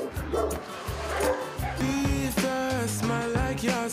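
A dog waiting for adoption at an animal shelter gives repeated close barks and yips in an uneven rhythm, with steady background noise throughout.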